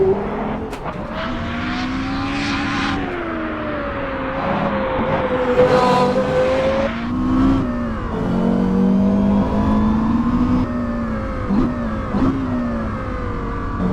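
A Porsche Carrera GT road car on a race track, its engine revving hard through rising and falling pitch sweeps as it shifts gears, loud, close and unbroken, with no talk.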